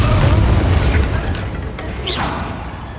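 In the Hogwarts Legacy video game, a Confringo blasting spell explodes with a loud, heavy boom that rolls on as a sustained rumble, with fainter crackles and pops layered on top.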